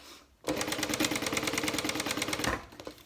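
A sewing machine runs a steady burst of rapid, evenly spaced stitches, backstitching a seam on a zipper pouch near the zipper tabs. The stitching is close and fairly loud, starting abruptly and stopping after about two seconds, with no talking.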